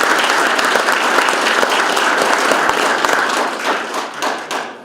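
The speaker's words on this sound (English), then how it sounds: "let's have a round of applause for those" An audience at a city address claps in a dense, steady round of applause that carries on strongly, then thins out and fades toward the end, close and loud, with no speech.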